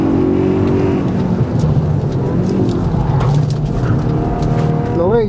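A car engine, one of a Hyundai i20N, Ford Puma ST or Toyota GR86 RZ, pulls hard through the gears during a test drive, loud and close, with rising pitch sweeps and some chirping noise over the top.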